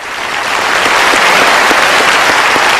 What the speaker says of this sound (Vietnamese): một tràng vỗ tay nữa dành cho các thí sinh